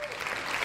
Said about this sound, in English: Insert applause here, Grant.